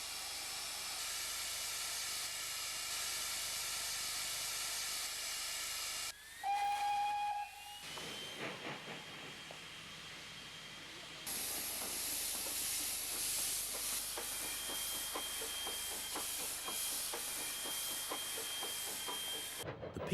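A steam locomotive on the Pichi Richi Railway at Quorn, South Australia, gives a short shrill whistle blast amid loud, continuous hissing steam, with the hiss dropping away and then surging back strongly.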